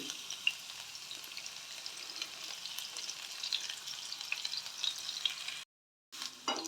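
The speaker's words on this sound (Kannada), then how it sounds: "ನೋಡಿ ಸ್ವಲ್ಪ ಫ್ರೈ ಆಗಬೇಕು ಶುಂಠಿ ಬೆಳ್ಳುಳ್ಳಿ ಎಲ್ಲ" Garlic, ginger and green chilli fry in a pan with a continuous, even sizzle, close and fairly quiet, broken by a brief gap near the end.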